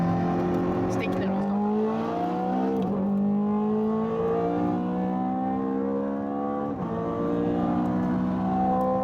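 Ferrari 430 Scuderia race car engine revving hard, pitch climbing steadily through gears with short dips at each shift, loud and continuous with a sustained howl.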